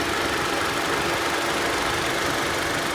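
A 2019 Mitsubishi Outlander's MIVEC engine idles in a steady, even hum with a faint mechanical ticking, close up and constant throughout, with no talking.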